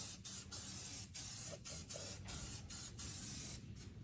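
Spray paint hisses onto a part of a 1949–51 Mercury in short, repeated close bursts separated by brief pauses, with no talking.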